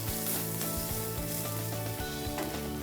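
Ginger garlic paste sautés in a pan with a steady, soft sizzle and frying crackle, broken by light periodic scrapes of a spoon, close and continuous with no talking.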